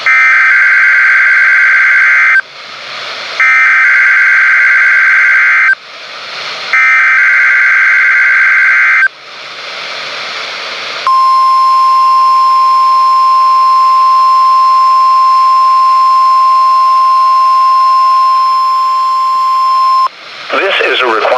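National Weather Service weekly test on weather radio station WNG575: a loud warbling multi-tone data burst repeats three times, followed by a long steady piercing alert tone, then a brief final burst.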